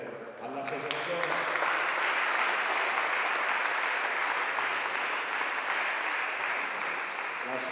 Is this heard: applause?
yes